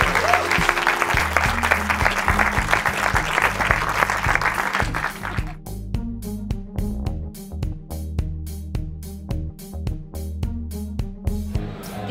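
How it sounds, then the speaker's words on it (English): An audience at a film screening and networking event at BFI Southbank claps and applauds loudly, a dense wash of clapping that thins into sparser, distinct claps, with music playing underneath throughout. "Show some love, clap, applaud"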